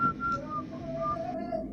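A man whistles a short, wavering tune while walking down a staircase, the melody close and clear for a couple of seconds with a faint background murmur.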